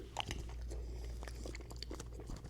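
Someone chews a Wagyu beef salad up close, with soft wet crunching and mouth sounds continuing steadily at low volume and no talking.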